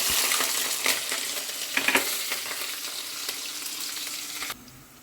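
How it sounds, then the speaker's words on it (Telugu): Cumin, cinnamon, green chili and onion frying in hot oil, a close, continuous sizzle with crackles, occasional scrapes and stirring clinks, ending abruptly as the heat drops away. "ఆయిల్ వేసిన, లైట్గా సాజీరా, దాల్చిన చెక్క ఇవన్నీ కూడా వేసి, ఇంకా పచ్చిమిర్చి, ఉల్లిగడ్డ ఇవి కూడా వేసి"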